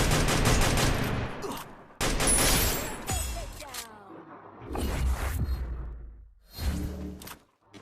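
Bursts of rapid gunfire from the video game Garena Free Fire come loud and close, broken by short gaps, with whooshing effects and a rising, falling whine between volleys.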